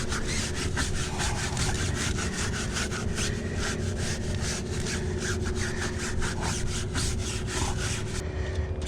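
A stiff detailing brush with tire cleaner scrubs a car tire in a parking lot, producing a loud, continuous rhythmic scraping of fast back-and-forth strokes up close.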